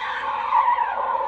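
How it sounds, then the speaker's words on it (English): An espresso machine steam wand froths milk to make microfoam, giving a steady close hissing screech with a wavering pitch as the jet swirls the milk into a vortex. "I'm moving the wand underneath the surface to create a vortex."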